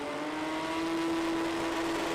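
Drag racing cars rev at the starting line of the World Cup Finals, a continuous droning engine tone holding steady with a buzzy edge, loud and unbroken with no talk.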